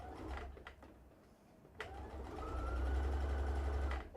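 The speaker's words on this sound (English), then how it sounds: "I am just going to sew right to the seam allowance, right to the corner" A sewing machine stitches fabric with a steady close mechanical whir and hum that grows stronger in the second half, with a few sharp clicks and knocks from the machine.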